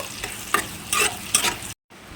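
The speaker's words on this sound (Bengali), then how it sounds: "সেটা আমি তেলের মধ্যে দিয়ে দিলাম পেঁয়াজটা দিয়ে এবার পেঁয়াজটা একটু লাল করে ভেজে নেব" Chopped onions fry in hot oil in a pan for a chicken curry, sizzling under a few loud spatula scrapes and stirs close by, then cut off abruptly near the end.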